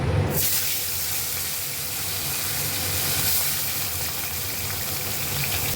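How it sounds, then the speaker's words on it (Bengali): Steady sizzling hiss of whole bhetki fish frying in hot oil, close and continuous, with no talking. "আমার তেলটা গরম হয়ে গেছে, আমি এবার মাছগুলো ভেজে নেব একে একে"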